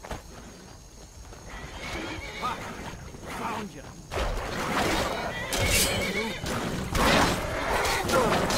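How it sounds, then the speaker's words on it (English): A horse neighs loudly in a video game, a whinny answered by more whinnies and clip-clop hooves, with a voice speaking over the close, busy game sounds. "I find myself in need of a horse."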